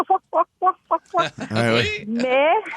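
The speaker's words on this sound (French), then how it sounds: "Fait que les poules, ça allait, ça va, ça me semble un peu comme des vieilles matantes qui rient." A neighbour's hens cluck nearby in a run of short, evenly spaced pulses, then break into a longer, rising cackle.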